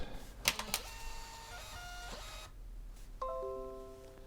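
A DYMO 4XL label printer, reassembled from loose parts, runs a print attempt with sharp clicks and mechanical clatter, then a brief whirring motor and a rising electronic tone sequence, fairly quiet and close up.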